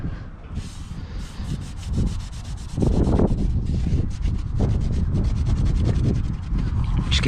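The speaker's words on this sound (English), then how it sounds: "I'm just going to use a wipe and firmly go around scrubbing it all." Close, firm scrubbing with a wipe and glue and tar remover around a caravan water housing, a continuous rough rubbing that grows louder and steadier partway through.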